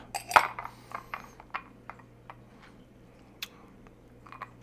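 A large 2-inch ice cube is set into a cocktail glass for an Old Fashioned, giving a sharp clink followed by a few lighter taps and ticks of ice on glass, quiet and close with no talking.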